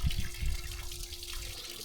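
Water from a fountain splashes and runs continuously close by, a steady trickling flow with a faint hum underneath.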